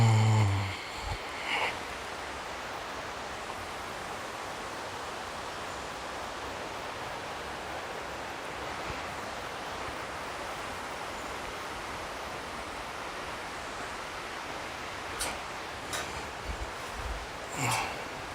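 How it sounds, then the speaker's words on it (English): A rainforest waterfall heard from a walkway, a steady broadband rushing roar that holds evenly throughout, with a few faint knocks and rustles near the start and end. "I can hear the waterfall as well."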